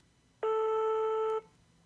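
A single steady electronic call tone lasts about a second as a call starts from a contact widget on a Galaxy S8 phone, clear and alone over faint background hiss.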